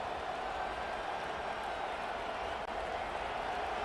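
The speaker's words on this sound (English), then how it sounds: "This crowd bringing the energy and noise early" A stadium crowd in a college football video game roars as a steady, broad wash of cheering noise that holds level throughout with no breaks.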